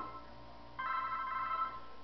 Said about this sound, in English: Oh, there's that dang phone.